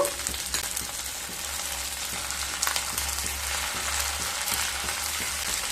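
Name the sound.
shrimp frying with onion and garlic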